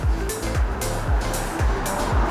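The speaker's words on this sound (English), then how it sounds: "oh, bloody cars." Cars pass on a road near a converted school bus roof deck, a steady drone of several passing vehicles with low rumbling whooshes rising and falling every half second or so over background noise.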